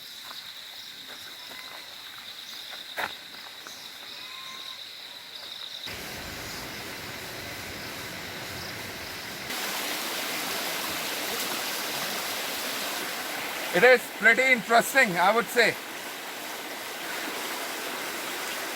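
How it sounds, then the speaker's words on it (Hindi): A waterfall and flowing water near Islamabad make a steady, soft rushing wash, joined partway by a short burst of chattering calls, and a person speaks briefly over it. "आबशार, पानी।"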